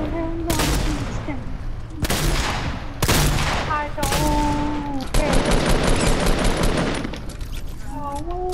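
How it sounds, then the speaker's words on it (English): Burst rifle fire rings out in Fortnite, several sharp three-round bursts spaced about a second apart followed by a longer run of rapid shots, loud and close, with a voice talking in between. "Yes, my burst rifle."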